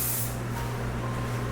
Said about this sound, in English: I'm gonna do a really light hairspray